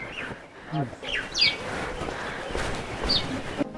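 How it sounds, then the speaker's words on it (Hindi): A few scattered bird chirps and tweets over a murmuring outdoor background in a Himalayan village near Chopta, some near, some farther off. "आहा, चिड़ियों की आवाज़।"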